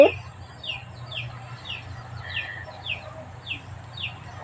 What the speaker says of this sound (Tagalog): Si Tweet, yung manok ko alaga.